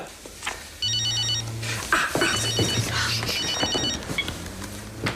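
An old-style telephone bell rings in repeated metallic bursts, with short gaps between them. It sits up close in a room alongside some background noise and movement.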